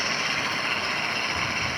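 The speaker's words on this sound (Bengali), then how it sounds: "ভটভটি গাড়ি।" A motor cart engine idles in a horror video game, giving a steady, even droning hum that runs unchanged through the whole stretch with no talking.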